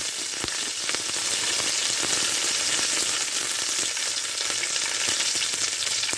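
Garlic and curry leaves frying hard in hot oil in a pan for a dry fish dish, a loud, steady close-up sizzle with occasional stirring scrapes throughout.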